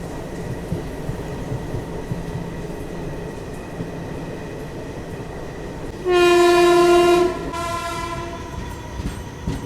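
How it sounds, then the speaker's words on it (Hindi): The Ranikhet Express rolls along after leaving Moradabad Junction, a steady rumble of rail cars carrying through, with a loud sustained horn blast from about six to seven and a half seconds. "1:50 में हमारी ट्रेन निकल गई है मुरादाबाद जंक्शन रेलवे स्टेशन से।"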